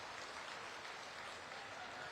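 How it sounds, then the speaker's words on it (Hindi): Distant crowd applause at the Bhandarpuri Dham darshan mela, a religious fair honouring Guru Balak Das: a faint, even wash of many hands clapping without pause. "एक बार गुरु साहिब पर जोरदार ताली बजा दो भाई"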